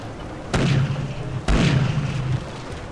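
Cannon fire from pirate ships at sea in Pirates of the Burning Seas: two heavy booms about a second apart, each followed by a rumbling roll that fades.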